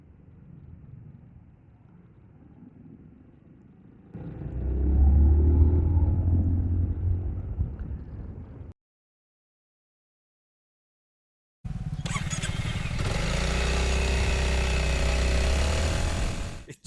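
A 2026 Honda ADV350 scooter's ESP engine rumbles loudly while riding, revving in two long stretches separated by a brief gap of silence.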